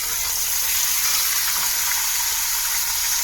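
Marinated fish frying in a hot pan just after being flipped, giving a steady, even hiss of sizzling oil close by that holds unbroken throughout with no talking.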